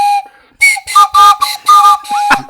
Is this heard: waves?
no